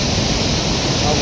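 Water crashes down a waterfall in Canada, a loud, dense roar that stays constant throughout this short moment.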